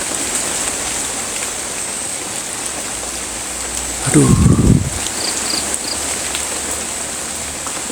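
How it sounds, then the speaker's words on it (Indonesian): Close, steady rain hisses continuously at a dam, with a brief spoken exclamation in the middle. "suara hujan itu akan tambah makin keras Ton karena dekat sama kita ya"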